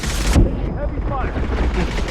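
Heavy gunfire and explosive blasts from a Mass Effect 2 firefight roar loudly and continuously at close range, with in-game voices shouting over the barrage.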